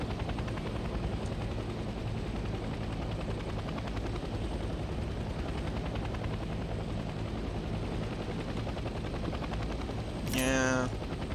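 A helicopter in Hell Let Loose Vietnam drones steadily and evenly from start to finish, a dense continuous rotor wash with a brief whistling sweep near the end.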